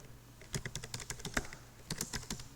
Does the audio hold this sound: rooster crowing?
no